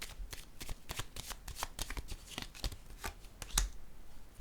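Tarot cards are shuffled by hand in a quiet room, giving a rapid run of soft, papery riffles and taps over several seconds, close and fairly faint.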